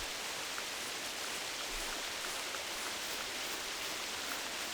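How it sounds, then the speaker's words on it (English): Steady rain in high country, a dense even hiss with faint scattered drops, constant and close with no voices. "I am surprised how much rain there is up here."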